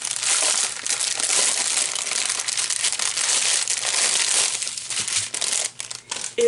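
Plastic packaging of diamond painting drills crinkled and crushed up close, a continuous loud rustling crackle that fades to softer, sparser rustles near the end.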